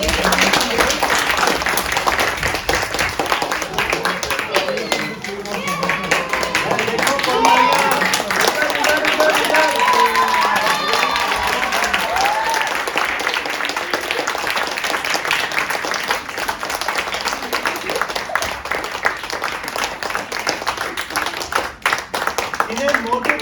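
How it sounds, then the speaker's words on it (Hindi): Audience applause at an All India Radio event featuring Motu Patlu, a steady broadband patter of many hands clapping that carries on for the whole stretch, with voices and some background chatter mixed in. "Clap for samosa cake."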